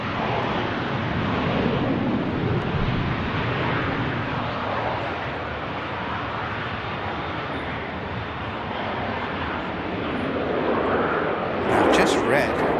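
An EasyJet airliner landing at Manchester Airport: a steady, broad roar of engine and rushing air holds for the whole stretch, fairly distant and even, swelling slightly near the end.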